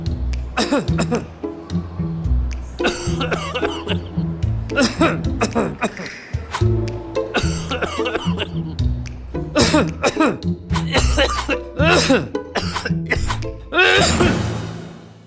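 Repeated harsh coughing fits, close and loud, coming in bursts with short pauses and some throat clearing between them.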